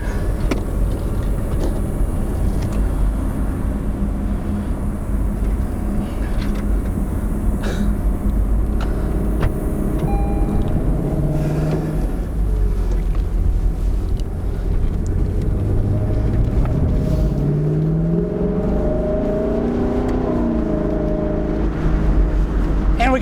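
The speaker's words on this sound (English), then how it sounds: "let's put the top down, do a little bit of convertible driving finally" Lexus LC 500 convertible driving with the top down in Sport Plus mode, a steady loud rush of engine, road and wind noise with rising and falling engine tones throughout.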